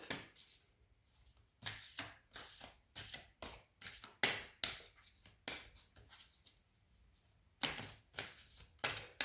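White Light Oracle cards being shuffled by hand in quick repeated riffling bursts with short pauses between, close and crisp, no talking.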